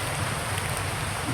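Steady heavy rain pours down outdoors on a mountain descent, a dense continuous hiss with no pauses and no voices.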